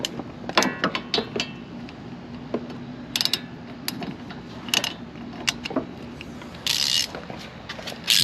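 A ratchet wrench clicks in short bursts while loosening a rear brake bolt on a Fiat 124 Spider, the pawl ticking up close with metallic clanks and a brief whirring spin near the end.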